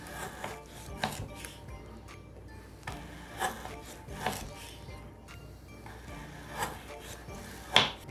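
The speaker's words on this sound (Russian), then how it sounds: "И острым ножом тонко нарезаем." A sharp knife thinly slicing a frozen mackerel roll on a board, several separate sharp cuts spaced irregularly with quiet scraping between.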